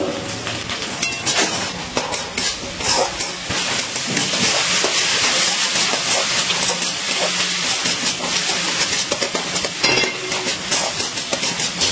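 Spice paste of chilli paste with ground cumin, coriander, turmeric and Kashmiri chilli powder being sautéed in a pan, giving a loud, steady sizzling hiss that runs throughout with no voices.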